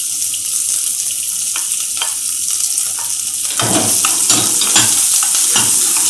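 Green chillies and asafoetida sizzle in hot oil for poha, a constant bright hiss close in the pan that swells and crackles more sharply partway through, with no talk.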